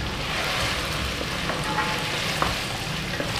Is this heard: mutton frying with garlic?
yes